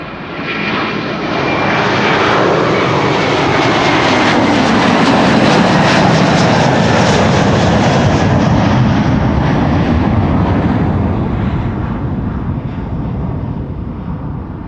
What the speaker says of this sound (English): Beautiful cloudy backdrop, against which this KLM is flying out.